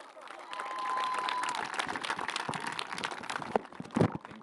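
An audience at a PM Youth Program event with Lahore Qalandars bursts into applause for a speaker: steady, dense clapping from a crowd indoors, holding level for several seconds with scattered louder claps and a faint murmur underneath.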